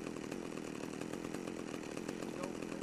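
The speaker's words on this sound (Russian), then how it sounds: "Это бензопила." A chainsaw in the video game GTA Vice City, a steady, dense, buzzing engine roar that runs loud and unbroken throughout, with no speech over it.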